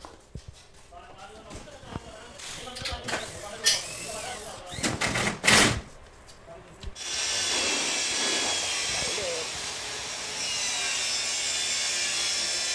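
A circular saw cuts MDF board during a ceiling installation: scattered knocks and handling noises give way to a steady, bright whining cut in the second half, with someone talking over parts of it.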